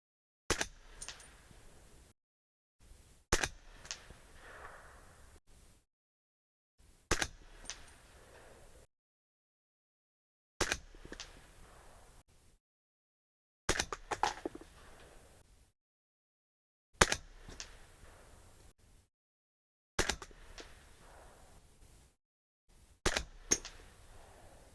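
Suppressed gunshots from a rifle fitted with a SilencerCo Omega 36M suppressor fire at a slow, regular pace, each a sharp muffled crack followed by a short decaying tail and a pause before the next.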